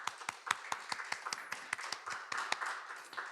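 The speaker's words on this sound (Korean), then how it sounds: "영광의 박수 올려드립시다." Congregation clapping in a church during a first Sunday worship service, a small group's irregular claps with distinct sharp hits, moderately close and without talk.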